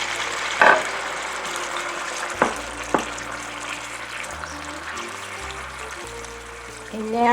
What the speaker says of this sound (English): I'm going to start by pouring just a half a cup of water in there